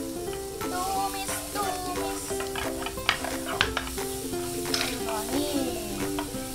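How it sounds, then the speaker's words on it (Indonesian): Onions sauté in a pan on a home stove, with steady sizzling and frying under intermittent scraping and stirring, while background voices chatter throughout. "Masukin bawang bombay. Ini kita tumis."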